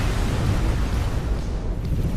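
Xenon K spaceship exploding in the space game X4: Foundations, a dense rumbling blast that fills the whole moment with a sustained low roar and no talk.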